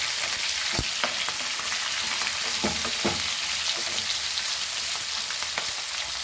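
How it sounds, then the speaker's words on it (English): Onions fry in a pan during the cooking of Goan mackerel ambotik, giving a loud steady sizzle broken by a few stirring scrapes. "Now we will add our onions. And fry this nicely."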